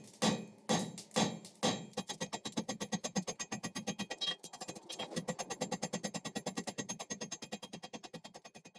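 Hammer blows texture a forged steel taper, first a few heavy spaced strikes, then a fast, steady run of ringing metallic hits on the anvil, close and loud with no talk.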